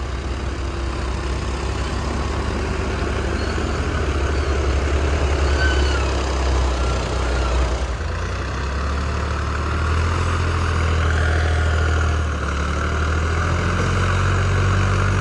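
A stuck tractor's engine runs with a loud, steady low rumble that stays heavy and continuous throughout, its drone shifting slightly midway with no clear talk over it.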